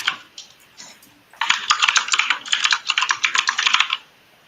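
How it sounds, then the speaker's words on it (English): Fast, loud typing on a computer keyboard, close and clear, in a dense run of clicks lasting a few seconds, preceded by a few softer scattered keystrokes and no talking. "Shy, can you start typing? Yeah, sorry. I'll turn it off."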